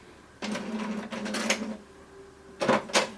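An HP Deskjet 2755 printer powers on with bursts of mechanical whirring and grinding from its internal carriage, two longer runs then a pause and another short burst, close and clear.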